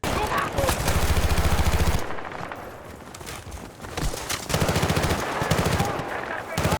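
Automatic gunfire from Battlefield: Bad Company 2 rattles in loud rapid bursts, stopping for a quieter stretch and then returning, with fainter game ambience between the volleys.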